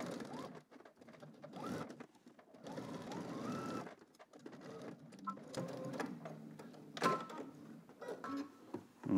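A sewing machine stitching a seam down a garment with a 5/8 inch allowance, running in bursts of rapid mechanical whirring separated by short pauses, close and fairly quiet.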